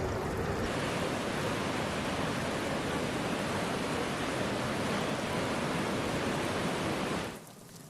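Water discharging from Ujani dam after heavy rain, a dense, constant roaring rush that stays loud and unbroken for several seconds before cutting off abruptly near the end.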